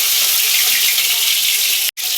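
Pumpkin leaf fritters hiss and sizzle loudly in hot oil, a steady close bright frying sound that breaks off for a moment near the end.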